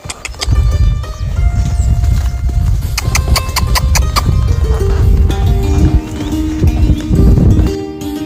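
A horse walks on a sandy farm path, its hooves giving a loud, close, steady clip-clop with brief tonal squeals and hums layered over the rhythmic footfalls.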